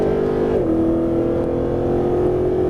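A Mercedes-Benz SLS AMG on a Las Vegas race track holds a steady, loud engine drone that drops sharply in pitch as it upshifts, then settles into a lower continuous tone.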